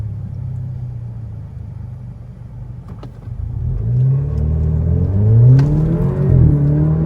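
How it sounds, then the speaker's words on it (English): Alfa Romeo Giulia sports sedan pulling away from a low idle rumble into a rising, revving acceleration, exhaust burbling and growling louder as engine pitch climbs through two surges, close and alone. "the exhaust burbles"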